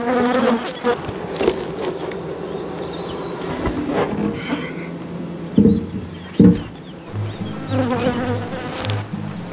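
Honeybees buzz densely around colonies at an apiary, a loud continuous drone close by, with a few sharp knocks from handling the hives partway through and no talking.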